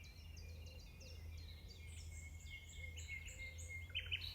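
A nightingale singing faintly at a distance, a varied run of short chirps, whistled phrases and trills rising in pitch, over a steady low background hum.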